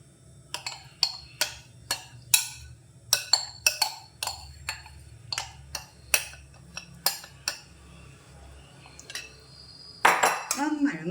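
Chicken fry batter gets mixed into an egg mixture in a bowl, a utensil clinking sharply against the side in a quick, steady series of taps with a louder scrape near the end.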